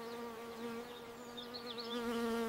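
Honey bees buzz steadily and close by, a sustained droning hum with shifting wingbeat tones and no voices.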